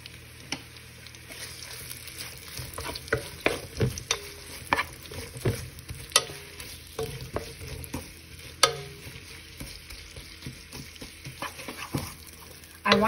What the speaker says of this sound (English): Now I'm gonna just drop all these onions and garlic, and I'm gonna stir it for a few minutes.